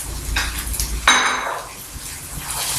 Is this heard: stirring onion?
yes